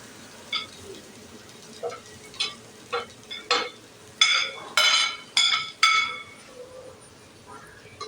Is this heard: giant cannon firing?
no